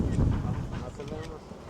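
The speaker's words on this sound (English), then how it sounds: "Look at that flag behind me, how much wind is blowing" Low, rumbling wind buffets the microphone steadily throughout on a hilltop in Istanbul above the Marmara Sea, with faint background sounds underneath.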